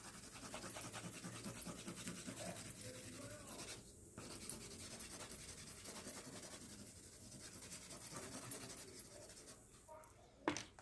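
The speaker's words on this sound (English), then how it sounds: "Because I'm going to use the gray pencil." Gray pencil sketching on paper for a simple beach drawing, a steady scratchy rubbing of graphite strokes running close and continuous throughout with brief pauses.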